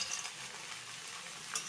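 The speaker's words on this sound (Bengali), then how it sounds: "আলতো হাতে একটু নেড়ে চেড়ে দেব।" Fried vegetables and bori being stirred into a spice mix in a pan for shukto, with a steady, soft sizzle, occasional utensil scrapes, and no talk.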